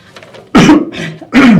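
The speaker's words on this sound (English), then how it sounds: "if you do have a cough or a sneeze, catch it in your elbow" Two sharp, muffled coughs into an elbow sound close by, separated by a brief pause, with a softer breathy sound between them.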